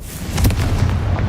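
A Confringo spell in Hogwarts Legacy blasting with a short, loud, booming burst that rumbles briefly and then fades.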